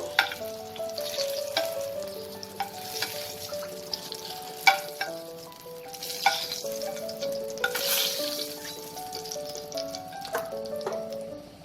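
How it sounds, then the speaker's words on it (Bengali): Pointed gourd pieces fry in hot oil in a pan, turned and browned on all sides, giving a steady close sizzle with soft crackles and occasional stirring clinks throughout. "পটলটাকে আমি চারিদিক থেকে উল্টে পাল্টে এরকম ব্রাউন করে ভেজে নিয়েছি।"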